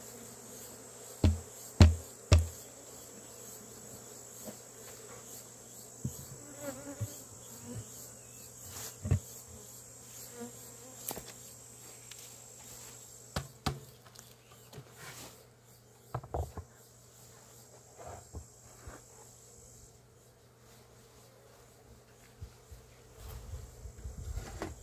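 Honey bees buzzing around an opened hive at an apiary, a low steady drone with scattered sharp knocks and clicks from handling the hive, no voices.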